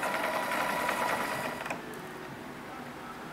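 The small electric motor of a radio-controlled Upholder-class model submarine whirs steadily under throttle with a smooth, even mechanical drone, little vibration and slight ratcheting texture, close by, easing off partway through.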